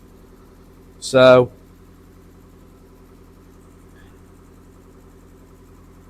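A car engine that has stood unused for a few months idles steadily at about 1,000 rpm with steam from the exhaust, giving a constant low hum throughout while a voice briefly says one word.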